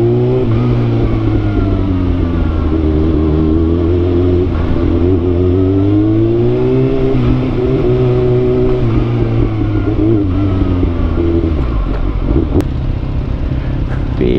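A car drives slowly while being parked, its engine a steady, loud, close low rumble with gently rising and falling tones, ending in a brief quieter thump.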